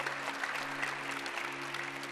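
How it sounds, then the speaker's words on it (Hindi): An audience claps steadily for about two seconds at a yoga and health talk, a fairly faint, even wash of applause with a low steady hum running beneath it. "एक बार जोरदार तालियां बजा दो भाई"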